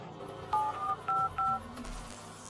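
Telephone keypad tones as a call is dialed to the police in an animated horror story, four short beeps in quick succession over faint background hum.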